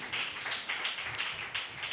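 A church congregation claps together at a Telugu Christian service, a steady run of rhythmic hand claps at moderate volume with no talk over it.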